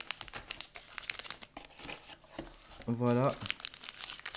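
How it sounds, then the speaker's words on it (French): A parcel of .38 Special cartridge cases is unwrapped close up, with crinkling and tearing packaging in quick bursts, followed by a short spoken word. "Donc on va déballer le colis"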